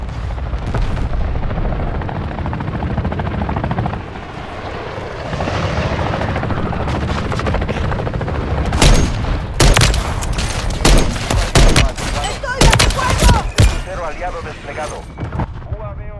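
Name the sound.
allied bombardment explosions in video game Call of Duty Modern Warfare 3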